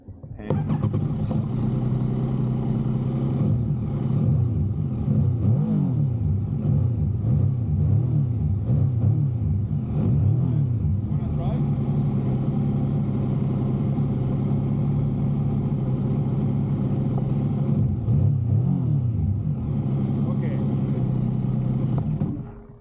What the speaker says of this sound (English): And now they want to rev my bike.